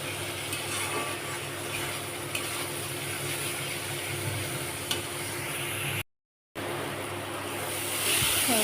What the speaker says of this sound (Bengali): মশলাটা ভালো করে কষে যাচ্ছে